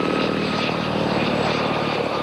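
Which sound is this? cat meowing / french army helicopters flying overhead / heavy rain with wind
french army helicopters flying overhead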